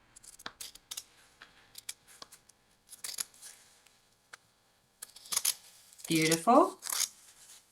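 Scissors snip back fabric and thread after sewing a cap sleeve, a series of close, crisp cuts with gaps between, followed by rustling cloth and a brief spoken word.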